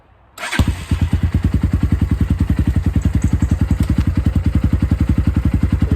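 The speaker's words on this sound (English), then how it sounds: "So I'm going to start her up and do a little start." A 10Ten 250cc dirt bike engine cranks and catches, then settles into a loud, steady idle with a rapid, even thumping rhythm close by.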